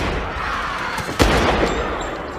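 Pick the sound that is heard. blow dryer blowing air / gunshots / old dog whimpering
gunshots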